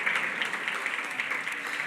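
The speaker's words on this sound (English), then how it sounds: "another big round of applause for the board chair of HACR" Audience applause at a closing reception and dinner for the HACR board chair, a steady dense clapping that fills the room at moderate level without pause.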